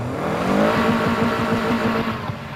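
A BMW engine revs in the video game Need for Speed Heat, a loud sustained engine tone with rising harmonics and a throaty, pulsing low rumble, heard alone.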